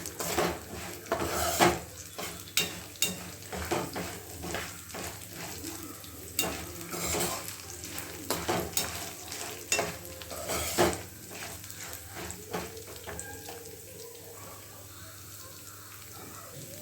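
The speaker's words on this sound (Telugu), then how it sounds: "కొంచెం మీడియం ఫ్లేమ్లోనే పెట్టేసుకొని దీన్ని ఫ్రై చేసేసుకోవాలి" Lemon rice tempering frying in oil on a medium flame, with a utensil stirring and scraping the pan in irregular clinks and bursts over a steady background sizzle, close by and moderately loud.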